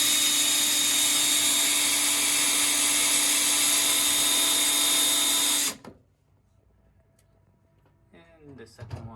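A power drill drives the top mounting bolts of an over-the-range microwave installed above a stove, whirring loudly and steadily for about six seconds before stopping abruptly, followed by faint handling noises.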